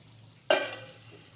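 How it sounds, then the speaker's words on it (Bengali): Fish fat dropped into a hot pan in a home kitchen bursts into a sudden loud sizzle after a quiet moment, then quickly settles into a softer, fading hiss up close. "এই যে এখানে মাছের তেলটা ভাজতে বসিয়েছি"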